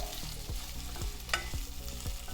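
Potatoes for aloo sabzi cook in a pan, sizzling quietly as a utensil stirs and taps against the pan in a loose, repeated rhythm, close by.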